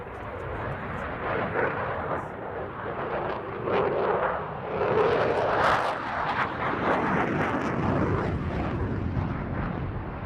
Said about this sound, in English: keeping the jet nice and slow, he's turning to point back at the crowd